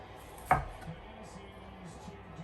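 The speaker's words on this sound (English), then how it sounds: "chop that baby up" A single sharp knife chop on a cutting board while cooking cauliflower, one clear near strike followed by quiet kitchen background.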